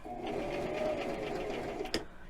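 A sewing machine backstitching in a short steady run of rapid stitching, close and clear, with a small clunk near the end.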